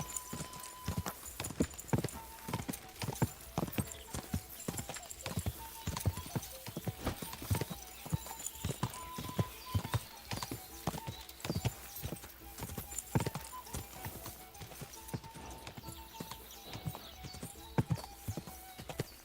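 A horse gallops in the medieval video game Kingdom Come: Deliverance, its hooves clip-clopping in a fast, continuous rhythm with a brief whinny, up close and fairly quiet.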